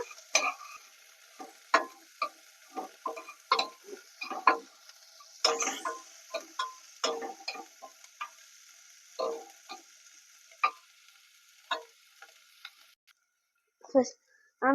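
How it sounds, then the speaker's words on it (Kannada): Onions frying in a pan for bitter gourd gravy, with sparse sizzle and irregular scraping and tapping of a spoon stirring, fairly quiet, with gaps between strokes. "ಈಗ ಫ್ರೈ ಮಾಡ್ಕೊಳ್ಳೋಣ"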